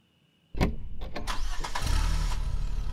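A truck engine in a driving video game cranks to life after a moment of near silence, then settles into a steady, loud rumbling idle with a few revving surges early on.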